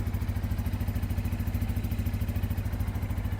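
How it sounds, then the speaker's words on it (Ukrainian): A Bajaj motorcycle engine idles with a rapid, even putter, close by and steady throughout, with no one talking over it. "Запускаю мотоцикл."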